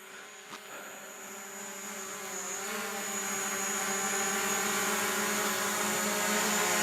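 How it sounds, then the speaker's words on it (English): A new drone hovers in place, its rotors giving a steady whining buzz with a rising pitch and growing loudness, close by and unbroken, with no talking over it. "if you do nothing at all, the drone will just hover right there"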